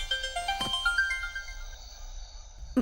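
A melodic phone ringtone plays a rising sequence of tones, repeating steadily before cutting off with a brief click.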